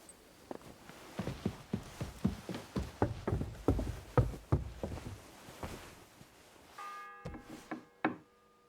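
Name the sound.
church bell ringing in video game Kingdom Come: Deliverance 2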